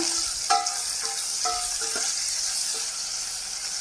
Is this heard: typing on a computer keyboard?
no